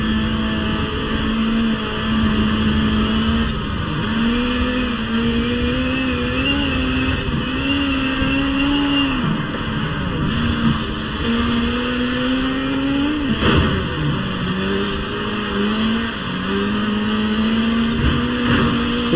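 Peugeot 207 Super 2000 rally car in Forza Horizon 4 drives a race with its engine droning and revving continuously, pitch rising and falling through gear changes, loud and steady with no talking.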